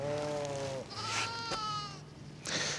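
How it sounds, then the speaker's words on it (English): Several sheep bleat nearby, one wavering call after another with short pauses and a low steady hum underneath. "Even the sheep approve."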